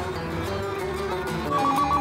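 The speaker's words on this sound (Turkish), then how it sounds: "Telefon çalıyor, ver bakayım." An old-style telephone bell rings in a Turkish home scene, a steady ringing tone held over a busy room background, growing slightly louder toward the end.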